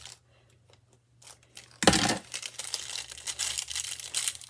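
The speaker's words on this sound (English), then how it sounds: "So I'm gonna cut this tip off." A few faint snips and rustles, then a louder crinkling burst as the plastic tip of a piping bag is cut off, followed by continued crackly handling of the bag at close range.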